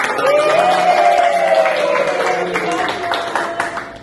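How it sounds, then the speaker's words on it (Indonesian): Schoolchildren in a classroom clap for group 1. The applause is loud and close and mixes with children's voices that rise and fall over the clapping before it thins out. "Tepuk tangan buat kelompok 1."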